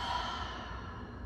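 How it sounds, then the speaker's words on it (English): A single open-mouthed exhale during a yoga breathing practice, a soft breathy sigh heard up close and alone, steady through its short length. "Take a breath in, open mouth, exhale."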